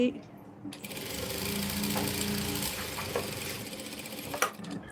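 A sewing machine stitches the front neck of a plain-cloth dress, a steady mechanical whirring run with a rattling rhythm that starts after a click and ends with a sharp knock, close by.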